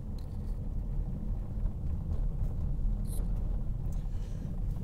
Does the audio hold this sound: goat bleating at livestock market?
no